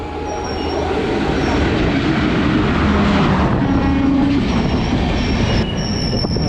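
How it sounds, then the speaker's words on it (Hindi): The Jammu Tawi–Kolkata Express pulls into Parasnath station, a loud continuous rumble of wheels and wagons up close with squealing wheel tones and a horn-like whine over the passing train. "सामने आ रही है जम्मू तवी कोलकाता एक्सप्रेस, पारसनाथ पे पहुँच रही है"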